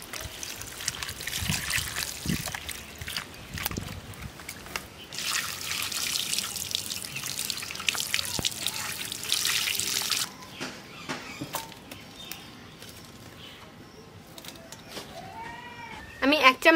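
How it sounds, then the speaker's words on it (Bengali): Mutton pieces washed in water by hand, with splashing, trickling and dripping sounds at close range, moderate and steady, then quieter rinsing near the end. "এবার মাংসটা আমি ধুয়ে নিচ্ছি।"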